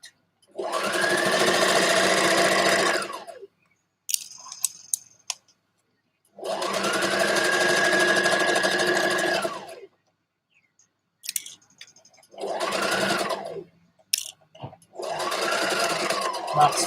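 A sewing machine stitches the sleeve of a dress in four steady whirring runs of a few seconds each, close and loud, with short pauses holding small clicks and handling noises between them.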